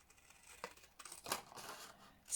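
Scissors cut through patterned Christmas craft paper for a 6-by-6-inch handmade card, giving a few quiet, brief snips and papery rustles close by in an otherwise hushed room.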